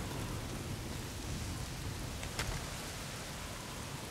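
Heavy rain in the video game Days Gone, a dense steady downpour hissing evenly across the whole stretch, with one brief sharper crackle partway through and no voices.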